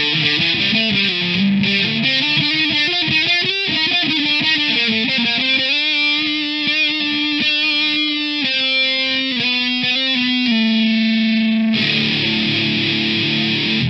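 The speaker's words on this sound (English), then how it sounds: "Because it's a distortion, obviously, so my guess is that would be either like the Metal Zone or the Heavy Metal Boss pedals." Heavily distorted electric guitar through a NUX MG100 multi-effects distortion preset in a Metal Zone style, fast riffing and sustained saturated notes ringing out loud and continuous with no talk.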